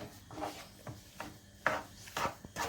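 Potato filling for börek being sautéed in a pan, intermittent scraping and rubbing strokes of a utensil against the pan, quiet and close with an uneven rhythm.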